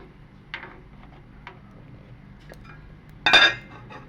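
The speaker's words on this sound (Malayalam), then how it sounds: "ആവശ്യത്തിനുള്ള ഉപ്പും ചേർത്ത് നന്നായിട്ടൊന്ന് ഇളക്കി യോജിപ്പിക്കാം" Sardine curry is stirred in a pot after salt goes in. A spoon gives a few light metallic clinks, then one loud scraping clank against the pot near the end.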